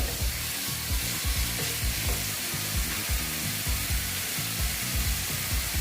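Pumpkin pieces sautéing in a pan for a vegetarian papad dish give a loud, steady, close sizzle and frying hiss throughout, with faint soft stirring knocks underneath.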